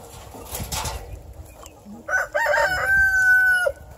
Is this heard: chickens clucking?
yes